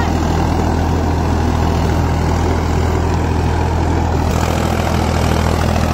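A Farmtrac 65 EPI tractor engine running under load while driving an 8-foot rotavator in a field gives a loud, steady low diesel drone with an unbroken rumble and no speech.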